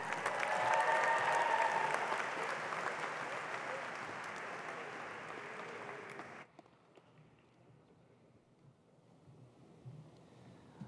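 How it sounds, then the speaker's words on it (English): Audience applause rings out at a 2019 college commencement for new graduates, a loud, dense wash of clapping for about six seconds that then drops abruptly to a quieter hall murmur. "one more round of applause for our new graduates"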